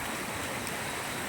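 Strong floodwater after heavy rain rushes in a steady, dense roar, loud and continuous with no pauses or voices.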